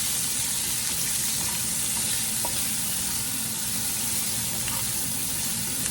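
Onions fry in meat drippings in a pan for homemade patty melts, giving a steady, dense sizzle that stays loud and close throughout, with faint clinks of stirring.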